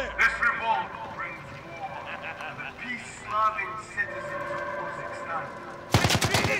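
Enemy gunfire in the video game Call of Duty Modern Warfare campaign: scattered shots and bursts under game voices, then a loud close burst at the end.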